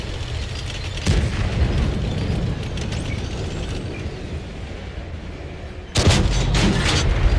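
A tank cannon shot strikes its target in World of Tanks, the IS-4M firing a fast primary shell; heavy booms punch out near the start and again near the end over a constant low rumble of engine and battlefield noise.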